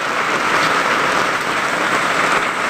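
Heavy rain pours onto a roof during a typhoon on a farm, a loud, dense and steady hiss of drops without a break or any talk.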